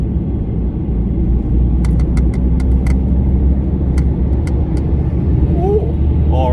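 An Audi RS6 wrapped in green drives past as a steady, loud rumble of road and engine noise that fills the whole stretch, with people talking over it.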